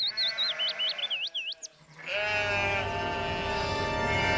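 Sheep bleat in an animated children's story: a run of quavering, wavering calls up close, after which a fuller bed of music and ambience swells in.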